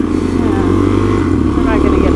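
Off-road motorcycle engine on a wet trail in Canyonlands near Moab, held at steady high revs, loud and close throughout with continuous droning rumble.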